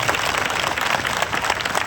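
Audience applause at a kirtan in a village gathering, a dense, even wash of many hands clapping at once, fairly loud and sustained for a couple of seconds with no talk.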